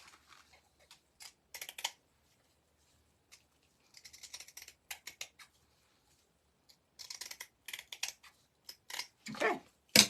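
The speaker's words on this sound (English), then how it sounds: "I'm going to cut me a little strip just outside that line, all the way across." Scissors snip across a strip of rice paper in short clusters of crisp cuts with quiet pauses between them, close and fairly faint, ending in a louder burst of snipping.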